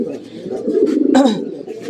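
Bokhara pigeons, white-top and almond-coloured, coo in a loft, a low rolling murmur continuing throughout with a brief sharper burst partway.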